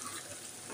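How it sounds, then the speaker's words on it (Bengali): Water running briefly while a blender jar is rinsed in a kitchen, a soft faint splashing stream with no talk. "আমি ব্লেন্ডার জারটা ধুয়ে একটু পানি দিয়ে দিচ্ছি"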